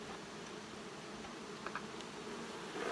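Honey bees buzz inside a hive box that is suspected to be swarming, a faint, steady insect hum with a few brief louder flickers near the end, no voices.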